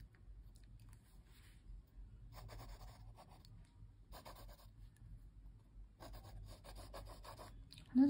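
A pencil shades on paper during a quick figure sketch, giving soft, faint scratchy strokes in short bursts separated by pauses, close and quiet.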